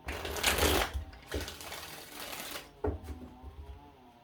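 Rapid riffling bursts of tarot cards being shuffled, a long flurry followed by shorter ones, close and crisp.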